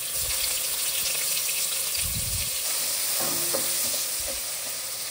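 Green chili and salt paste frying with curry leaves in hot oil for a radish curry, giving a loud, steady crackling sizzle broken by a few low stirring scrapes, close.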